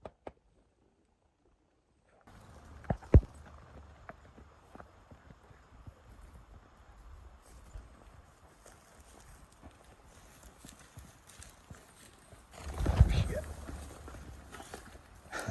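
Hooves of a horse named Houdini clip-clop at a steady walk on a trail ride while saddled up, close and moderately loud, with a couple of sharper knocks and a louder rustling burst near the end as quail flush nearby.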